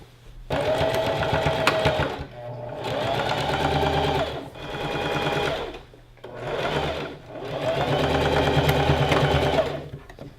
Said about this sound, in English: So we're just going to start sewing from there.